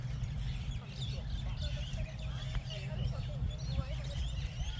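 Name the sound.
many birds, ducks quacking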